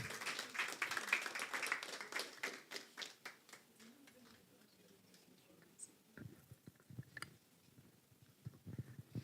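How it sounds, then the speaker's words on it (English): Audience applause in a morning program on inclusive development, a burst of scattered clapping that thins out, followed by faint tapping and a few quieter claps. "So please give her a round of applause."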